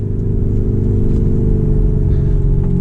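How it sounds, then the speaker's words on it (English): Lamborghini Urus in race mode, its exhaust and engine a loud, steady, deep rumble from inside the car, holding one droning tone throughout with no talking. "We can hear the exhaust"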